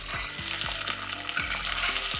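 Potatoes and peas frying in ghee give off a dense, steady sizzle with faint stirring throughout, and a few short tonal chirps sit under the crackle.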